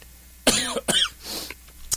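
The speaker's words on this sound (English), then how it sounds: "Pardon that cough." A single close, raspy cough in a couple of short bursts, followed by a brief throat-clearing sound in a quiet room, from a man at the tail end of an illness.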